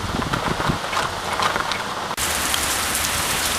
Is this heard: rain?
yes